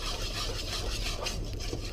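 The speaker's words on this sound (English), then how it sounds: "you need to just keep whisking and bring it back up to the boil" Custard being whisked continuously in a pan on the heat while it comes back to the boil, a steady close scraping and rubbing of the whisk against metal with no talk.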